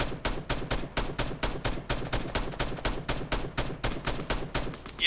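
Sustained suppressive automatic gunfire in the video game Arma 3 during a military simulation operation, a steady rapid string of loud, evenly spaced shots running without pause.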